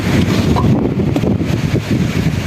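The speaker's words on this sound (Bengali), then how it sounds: "বাতাস অনেক" Strong gusty wind on a rainy rooftop vegetable garden roars steadily and loudly against the microphone, a dense continuous buffeting with no pauses.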